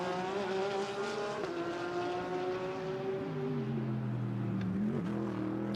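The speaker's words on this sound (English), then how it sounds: "Jordan Love is at the helm of number 40, the SPS Automotive Performance Mercedes" The number 40 SPS Automotive Performance Mercedes GT race car drives at Monza during GT World Challenge free practice: a loud, continuous engine roar that holds pitch, then drops through gear shifts, with no talk.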